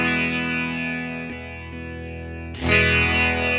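Sustained electric guitar chord through an original Line 6 POD, ringing first in direct mode and then switching to amplifier mode, which brings a sudden fuller, louder, brighter tone near the end; close and steady with no voices.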